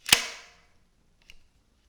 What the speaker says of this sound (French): On ravance le fusil, la culasse, comme cela.